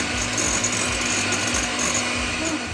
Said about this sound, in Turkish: Şöyle güzelce karıştıralım.